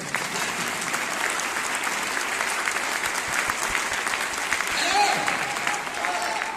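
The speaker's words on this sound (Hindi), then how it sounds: "तो वैसे एक सीनियर के लिए आप 2 ताली लगा दीजिएगा" An audience at a meeting gives a steady round of applause for a senior, dense clapping holding evenly and swelling briefly near the end, with voices faintly audible underneath.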